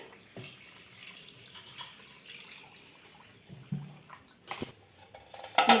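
Soaked semolina being rinsed in water for soybean idli batter, with soft splashing and clinks of vessels near a kitchen tap, growing louder toward the end.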